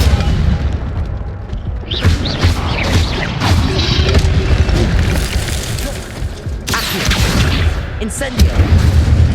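Incendio fire spell cast repeatedly in Hogwarts Legacy: loud whooshing bursts and booming impacts over rumbling combat noise, with a few sharp hits standing out.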